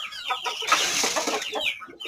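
Aseel chickens, grey and black hens among other fowl, clucking in a busy, overlapping chorus of short calls, fairly close and continuous, with no talk over them.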